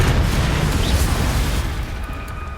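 A fiery Confringo spell explosion in Hogwarts Legacy, a loud blast that starts abruptly and decays over a couple of seconds into a fading rumble, with no talking.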